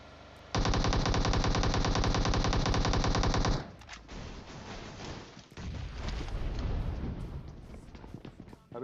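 Rapid automatic fire from an MK14 rifle in PUBG Mobile rattles out in one loud, continuous burst of about three seconds, followed by scattered shots and rumbling game noise, with no talk.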